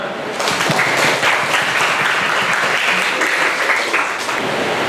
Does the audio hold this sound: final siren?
no